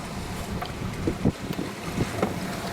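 The small sailboat Mingming II runs before a stiff north-easterly at sea, with wind buffeting and water sloshing against the hull in irregular close thumps and splashes.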